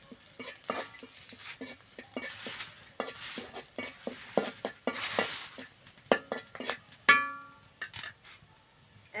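Whole cardamom, cloves, cinnamon and bay leaves fry in a pot for a village-style chicken curry, a soft sizzle under frequent metallic scrapes and clinks of a spoon stirring against the pot, close and irregular.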